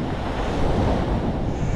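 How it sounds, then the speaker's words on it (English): Ocean waves rolling onto a beach, a loud continuous roar of surf with heavy wind buffeting the microphone and no voices. "Listen to that ocean."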